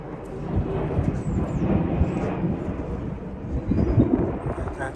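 Low, broad rumble of an airplane passing overhead beside the River Thames at Richmond riverside, a steady wash of sound sustained for several seconds with faint birdsong above it.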